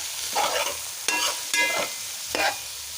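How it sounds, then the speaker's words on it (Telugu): Onions fry in oil with mint leaves, a bright hissing sizzle broken by several distinct stirring scrapes and clatters of a spoon against the pan, close up with no voices. "ఆనియన్ అయితే యాడ్ చేసుకొని మంచిగా ఫ్రై అయ్యే వరకు వేయించుకోవాలి."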